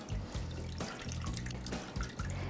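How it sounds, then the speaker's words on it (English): About four cups of very hot water are poured gently into a baking dish holding bowls, making a faint, continuous trickle and splash close by. "and I'm gonna pour it gently into the baking dish."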